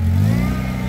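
A Lada Niva engine idles loud and close with a steady low rumble, its pitch sagging slightly partway through as it runs on without any talk.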